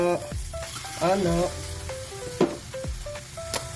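Pompano frying in hot oil for paksiw sizzles steadily and close by, while a person talks over it throughout.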